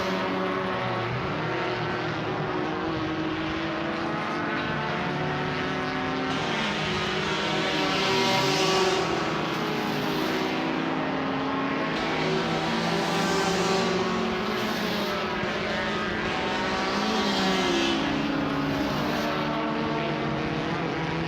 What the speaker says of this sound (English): come once more out of turn 12, up over the timing line. Leaders are on lap 8, and through go the Hondas.